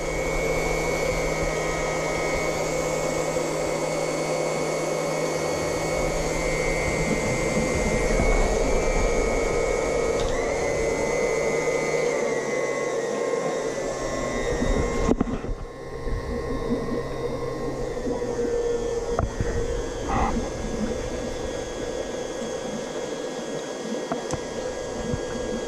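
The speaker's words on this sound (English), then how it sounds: "I hear air there." Air hisses and rushes steadily from a radiant heat system zone as it is purged during a glycol fill. The broad, loud flow is heard up close and shifts in tone partway through as a valve or fitting is worked.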